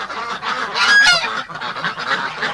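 Muscovy ducks call and honk inside a freezing shed on a winter farm, a dense, overlapping chorus of close, fairly loud bird voices that swells in the middle and keeps going throughout.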